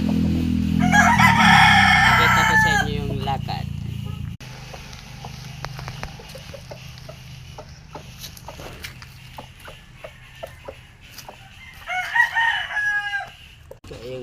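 A rooster crows loudly nearby, then after a quieter stretch of faint clucks and ticking sounds, crows again more briefly.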